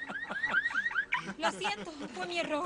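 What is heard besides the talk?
car alarm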